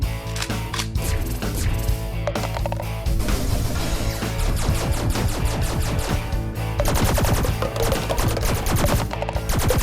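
Rapid bursts of sharp popping shots from a cardboard Mentos cannon firing at paper cups, loud and near, with brief pauses between volleys.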